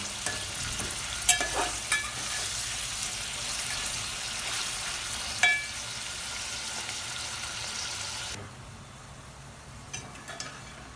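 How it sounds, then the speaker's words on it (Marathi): Onions fry in an open pan with a steady soft sizzle and occasional scraping stirs, then the sizzle drops to a quieter hiss near the end, heard alone without talk. "कांदा चांगला असा फ्राय झालाय मस्त परतलाय"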